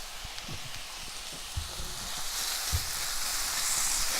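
Apples cooking in a pan with salted caramel sauce, giving a soft steady sizzle with a few low thumps and scrapes of stirring, close and fairly quiet.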